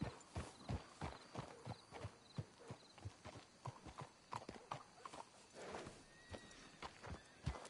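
Horse hooves clip-clop in the Red Dead Redemption 2 video game, a steady rhythmic series of sharp hoof strikes at walking pace, fairly close and quiet, with a faint whinny.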